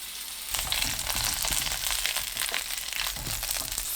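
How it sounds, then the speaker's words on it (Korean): Small potatoes sizzle and crackle in hot oil over medium heat with a continuous hiss, stirred with occasional scraping and shuffling, close by and moderately loud. "식용유 2큰술 넣고 중불로 3분 볶습니다"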